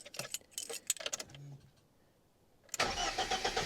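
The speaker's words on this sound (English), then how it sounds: "So we'll crank her over" A BMW E30 318is, just after an oil change, cranks with a brief whirring starter before the engine catches loudly and settles into a steady idle, preceded by jangling keys.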